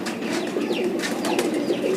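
Pigeons coo close by, a low continuous burbling murmur with faint higher chirps over a steady background, and no talk.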